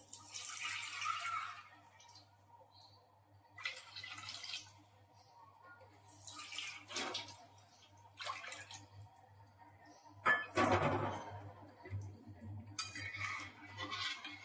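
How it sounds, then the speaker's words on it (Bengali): A bowl being rinsed and then filled with water in a home kitchen while making Bengali doi katla, with short bursts of splashing and running water and faint clinks of the bowl between quieter pauses. "এই বাটিটা ধুয়েই এর মধ্যে জল দিয়ে দেবো।"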